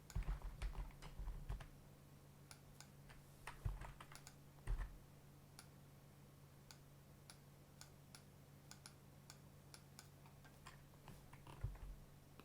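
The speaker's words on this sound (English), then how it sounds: "I can hit I on the keyboard to bring the eyedropper tool, and then to go back to the brush I can hit B" Computer keyboard keys are pressed in a few quick bursts of clicks near the start and again around four to five seconds, with scattered lighter taps in between, close and fairly quiet in an otherwise still room during Photoshop editing.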